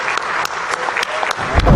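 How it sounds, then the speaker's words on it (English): Audience on an Indian train trip giving a brief, steady burst of applause, fairly loud and continuous with a few sharper claps standing out. "Give a big round of applause for him."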